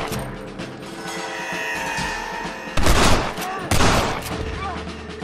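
Red Dead Redemption gunfire crackles in two loud bursts over a busy game soundtrack, with sharp bangs standing out against the steady background.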